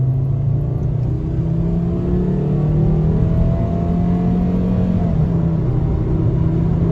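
A 2007 Volkswagen Jetta five-cylinder pulls hard at full throttle in sport mode, a steady loud droning engine note heard from inside the cabin with rising harmonics and no speech.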